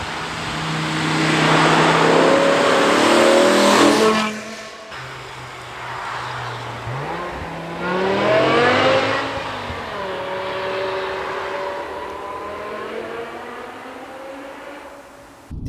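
BMW M5 Touring V8 revving hard while driving, two loud surging accelerations with rising engine pitch and gear changes, the first climbing for about four seconds, then a calmer cruising drone between and after, no talk.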